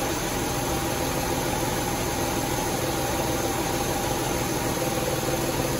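A 2004 Nissan Xterra engine idles steadily while the distributor is turned for timing adjustment, producing a constant, even broadband hum and hiss up close, with no talking.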